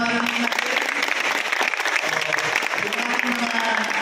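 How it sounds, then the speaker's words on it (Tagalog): Information technology students at a university orientation in the Philippines applaud in a dense, steady burst of clapping that fills the whole stretch, with voices mixed into the crowd noise. "Palakpak na, para marinig natin."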